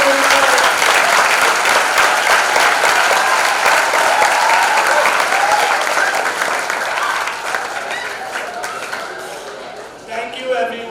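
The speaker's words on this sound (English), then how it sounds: "Let's give a big round of applause for class 2024 to 25." Loud, sustained audience applause at a school farewell assembly for the graduating class, a dense wash of clapping that stays steady for about ten seconds before thinning slightly at the end.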